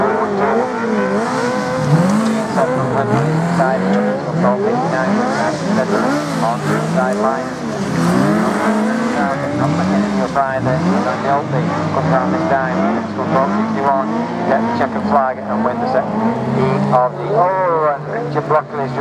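Autograss race cars, Class 7, roar and rev continuously on a dirt oval, engines rising and falling as they accelerate and slide, loud and close throughout while a commentator talks over them.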